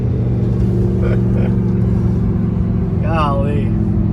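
A 2019 Lamborghini Huracan Performante engine holds a loud, sustained low drone up close, rising briefly in pitch near the end, with a person exclaiming over it.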